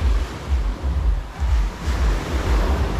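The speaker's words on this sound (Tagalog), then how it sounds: "Ang lakas ng alon." Strong surf pounds a sandy Boracay beach, heavy waves surging and breaking in loud rolling swells with wind buffeting the microphone, no talking.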